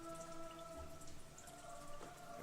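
Heavy rain ambience plays during a tabletop role-playing session: dense, steady patter of raindrops with soft sustained tones underneath and no voices.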